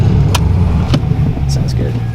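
A Pontiac GTO's engine runs steadily at close range, a low continuous rumble with a few brief higher clicks, under light talk.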